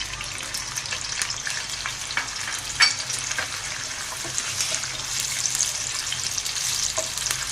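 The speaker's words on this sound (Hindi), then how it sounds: "अब ये इसमें बारीक कटी हुई प्याज डाली है हमने" Finely chopped onions fry in ghee in a pot, giving a steady, fairly quiet sizzle with occasional soft stirring knocks throughout; no one talks.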